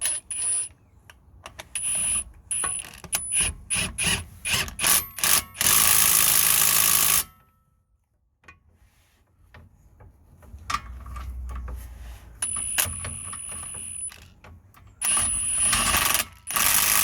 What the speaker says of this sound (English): So just gonna drive it in with the impactor gun.